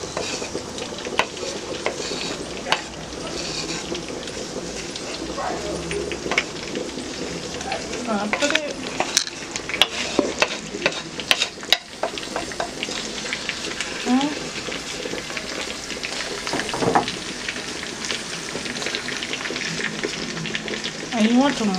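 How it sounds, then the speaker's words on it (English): Onion, sweet pepper, carrot, garlic, scallion and thyme frying and being stirred in a pot, a steady sizzle with scraping utensil clatter throughout, under intermittent talking. "So now we're going to add the potato, I mean the onion, the sweet pepper, the carrot, the garlic, scallion, and thyme."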